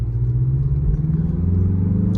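A 2023 Mazda CX-30 crossover's engine pulls under quick acceleration, a steady loud low rumble from inside the cabin with no distinct rise in revs and no turbo whine.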